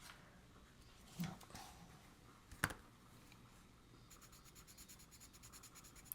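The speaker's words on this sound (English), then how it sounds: "Let me write on this. Give me a piece of paper." Pencil scratching across a sheet of paper in short bursts of strokes, close and quiet, followed by a faster run of rhythmic scribbling, with no talking.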